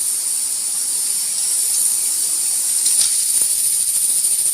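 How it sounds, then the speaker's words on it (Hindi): A pressure cooker on the stove, cooking peas, hisses steam in a loud, continuous high-pitched stream with slight surges, and no talking. "ये जो है हमारा कुकर अभी तक बज रहा है।"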